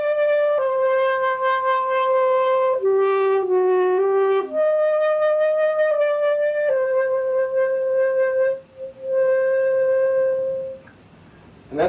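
A clarinet plays All-West etude number 11 with a poorly supported, out-of-breath tone, sounding sustained, wavering notes in a slow melodic line that falters and drops out near the end.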